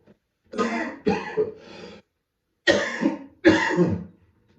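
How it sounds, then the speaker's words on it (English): Several harsh, throaty coughs close to the mic, a cluster of three followed after a pause by two more, with no talking. "Keep getting these coughs keep coming back."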